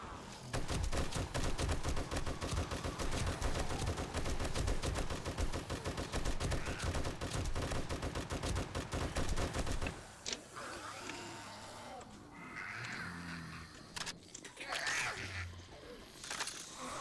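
Rapid automatic gunfire in the zombie survival game 7 Days to Die, a dense loud burst of shots running continuously for about ten seconds, then stopping abruptly into quieter scattered game sounds and thuds.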